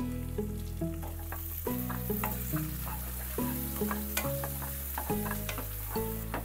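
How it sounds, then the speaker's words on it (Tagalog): Onion goes into a pan of garlic frying in oil, with a steady sizzle and occasional stirring under louder background music that plays throughout. "kapag medyo light brown na yung bawang, lagyan na rin natin itong sibuyas."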